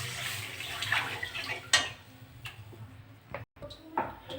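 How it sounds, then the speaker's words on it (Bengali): Water poured into a kadai, a light splashing trickle with small clinks from the pan, fairly quiet and close, fading near the end with a few brief knocks. "কড়াতে আমি জল দিয়ে দেবো।"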